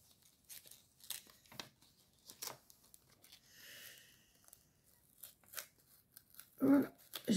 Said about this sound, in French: J'ai déchiré un peu l'enveloppe, mais j'ai pas déchiré les papillons.